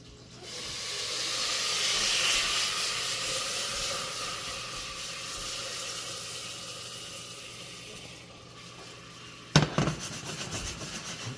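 Bacon renders in a pan with splashes of water, giving a broad, loud steaming hiss that slowly fades, then a few sharp sizzling bursts near the end.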